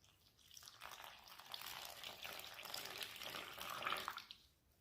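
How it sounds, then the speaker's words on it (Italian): Water being poured into a well of flour with salt for yeast-free pizza dough, a soft steady splashing pour that swells and fades over a few seconds, heard close and alone. "e versiamo acqua"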